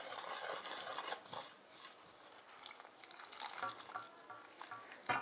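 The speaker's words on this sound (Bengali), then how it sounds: "আমি এখানে অল্প অল্প করে দুধ দেব আর ব্যাটারটা এরকমভাবে হাত দিয়ে ঘোরাবো।" Rice flour batter for patishapta pitha being stirred by hand as milk is added, soft wet swishing and squelching strokes in an irregular rhythm, fairly quiet and close.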